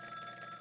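A telephone rings in the video game Ghost Trick: Phantom Detective, a steady, bright electronic bell tone that sounds continuously for a brief moment, then cuts off.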